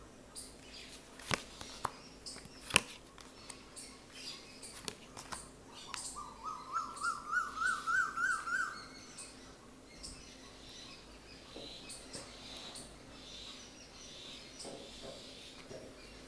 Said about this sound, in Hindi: आज बर्ड्स बहुत ज़्यादा एग्रेसिव हो रही हैं लग रहा है